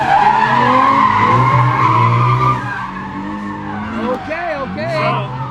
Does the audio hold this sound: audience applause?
no